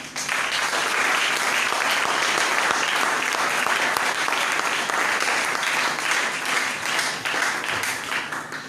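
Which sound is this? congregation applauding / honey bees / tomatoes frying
congregation applauding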